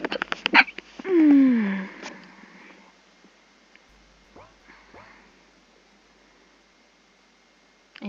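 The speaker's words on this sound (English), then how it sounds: "I knew I had a sneeze," A single sharp sneeze bursts out loudly near the start, followed by a tonal sweep and quieter scattered sounds that fade into near silence.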